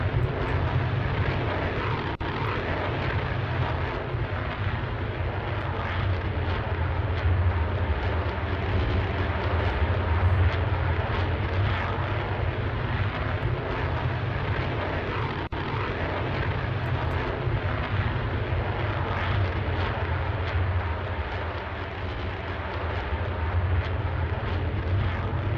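F-22 jet flying an aerobatic manoeuvre in the video game Roblox, a steady, dense engine roar held at an even level throughout, without speech.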